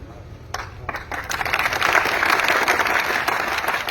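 A crowd of protesting farmers applauding outdoors, clapping breaking out sharply after a quieter start and swelling into steady, loud applause that carries to the end.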